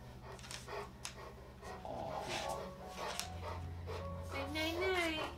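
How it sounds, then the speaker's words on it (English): A dog pants and gives short whimpers and yips close by in a home at night, under ongoing talk from several people. "I think Grandma got another dog."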